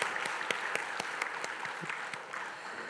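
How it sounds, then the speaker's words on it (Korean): Quiet applause from a church congregation at a Saturday dawn prayer service, a few seconds of steady, fairly soft clapping with some individual claps standing out. "축복의 박수 하겠습니다"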